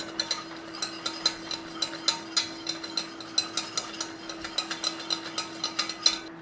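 Flour is stirred into melted butter in a pan, a utensil scraping and clinking against the metal in a steady rhythm of about three strokes per second, close and clear, with a faint steady hum beneath.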